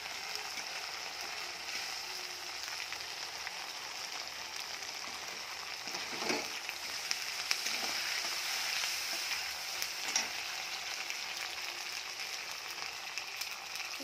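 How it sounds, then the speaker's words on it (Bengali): One kilo of chicken kosha being sautéed with tomatoes in a pan, giving a steady soft sizzle with occasional stirring scrapes, moderately close and continuous. "দিয়ে এটা একটু কষাবো।"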